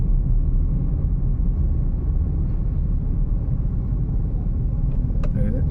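Overloaded trucks rumble along the Kanpur-Sagar highway, a steady low roar of heavy traffic close by that stays constant throughout, with a faint voice now and then.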